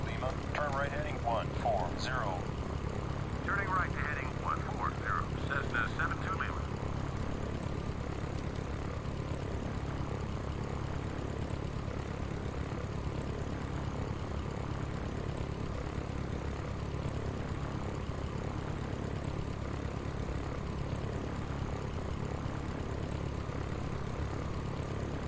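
A Cessna propeller plane in the Sierra Pro Pilot 98 flight simulator, flying from Meigs Field toward Chicago O'Hare, drones with a steady, continuous engine hum throughout, while a voice speaks over it early on.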